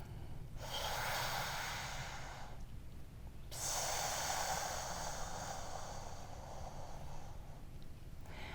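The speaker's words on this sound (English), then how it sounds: "Now let's take an inhale and an exhale here." During a yoga cobra pose, someone breathes in and out slowly and audibly, in two long airy breaths close to the microphone separated by a short pause.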